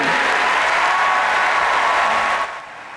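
A large crowd at the 2012 Democratic National Convention applauds and cheers in a dense, roaring wash of clapping that holds steady, then thins near the end.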